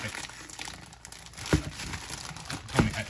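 Pizza packaging being opened by hand, with crinkling plastic and cardboard rustle building into two sharper tearing crunches, close by and moderately loud.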